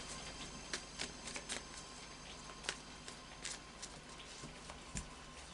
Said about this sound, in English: final shuffle of the Light Seers Tarot